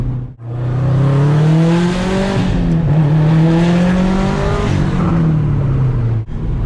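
A turbocharged 2004 Subaru WRX STI engine revs up loudly after a downshift to third, pitch climbing steadily as it accelerates hard under boost, filling the cabin for several seconds.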